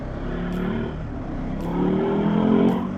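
A 2021 Ducati Hypermotard 950 twin-cylinder motorcycle engine under way, a steady close drone with harmonic tones that swell and climb slightly toward the end, no voices.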